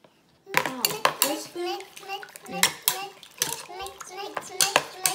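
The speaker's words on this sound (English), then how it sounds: "add super snow to the water and stir rapidly with a spoon" A spoon clinks and scrapes against a bowl as super snow powder is stirred rapidly into water, with children chattering close by throughout.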